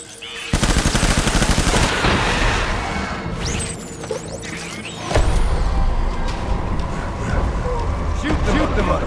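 Dense, loud gunfire in the video game Death Stranding: rapid machine-gun bursts and shots with crashes and whooshes layered over constant battle noise.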